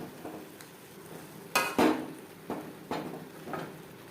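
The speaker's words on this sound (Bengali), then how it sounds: "আলু ও কাঁচকলার সাথে মশলা কষিয়ে নেব" Spices are stirred with potato and green banana in a pan over a medium flame: quiet, intermittent scrapes and clinks of a spatula against metal over a faint sizzle, close by.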